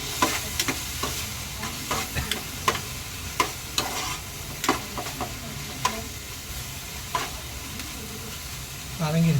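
Chicken masala ingredients fry in a pan cooked outdoors, a steady sizzle under repeated scraping and clacking strokes of a spoon stirring, close by and fairly quiet, with a little background voice.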